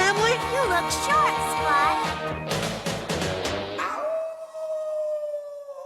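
A person imitates a wolf howl during a Teen Wolf podcast, wavering vocal howls over chatter, ending in a long sustained howl tone that rings on alone.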